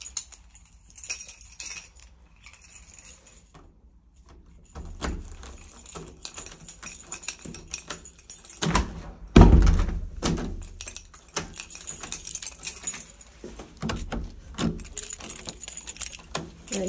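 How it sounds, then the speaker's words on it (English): Keys jangle and scrape in the lock of a house's front door, followed by a loud clunk as the door locks and then more rattling of the keys, close by with no talking. "I'm just going to lock the front door."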